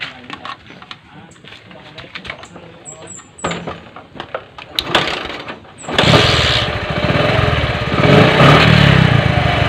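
A Bajaj CT 100 motorcycle, checked for a battery that keeps draining, is cranked and then bursts into a loud, steady engine run that continues to the end. Faint voices and light clatter come before it starts.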